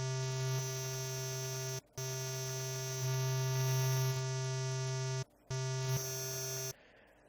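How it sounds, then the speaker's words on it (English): A harsh, buzzy bit-crushed synth tone with gritty digital distortion holds steady, cutting out briefly twice before stopping, from the Massive synthesizer. "which creates a distortion sound."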